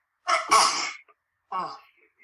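A sudden sneeze bursts out close by, followed a moment later by a shorter, breathy second sneeze-like sound.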